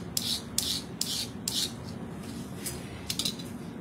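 An Inktense pigment block being scraped dry, a series of short raspy strokes repeating at a steady pace, close and fairly quiet over a light room hiss, with no voices.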